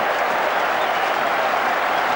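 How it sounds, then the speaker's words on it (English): A rugby crowd at a Bristol v Bath match cheers and applauds, a dense, continuous wash of clapping and voices, loud and steady. "the crowd are really starting to get vocal again"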